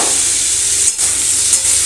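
Chopped tomatoes tossed into hot oil in a pan for a vegetarian soybean dish, giving a loud, continuous close sizzle with a brief stirring pause midway.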